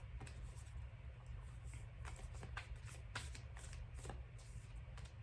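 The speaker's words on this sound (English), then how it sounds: "I'm gonna keep shuffling" A deck of affirmation cards is shuffled by hand, a rapid series of crisp riffling flutters and soft slaps repeating in quick bursts, quiet and close against a low background hum.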